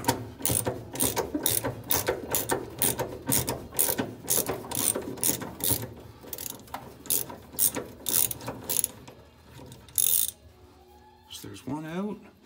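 A ratchet works a nut off a stud behind the dash of a 1971 Cuda, giving a long run of steady, close clicking strokes that slow and stop near the end, with a brief voice afterward.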